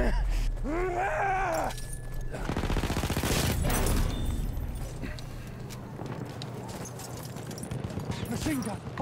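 Machine gun fire in the Battlefield 1 video game, a dense burst of rapid shots in the middle of a busy battle mix with other noise and game voices.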